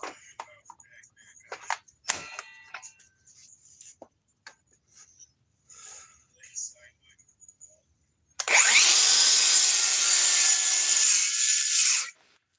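A DeWalt Sidewinder cordless circular saw running on a 4-amp power pack rips through wood for about four seconds, a loud, steady whine that stops abruptly, after a stretch of quieter handling clatter and faint talk.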